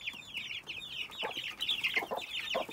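A hen clucks among month-old chicks, a busy run of short overlapping clucks and chirps at moderate distance, continuous and fairly soft with no talking.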